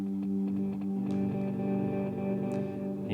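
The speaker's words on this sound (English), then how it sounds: "You hear the reverb is coming from the microcosm." Guitar running through a Hologram Microcosm pedal supplying reverb, followed lightly by a Meris Mercury 7, giving dense sustained washy chords with soft plucked attacks, steady and close.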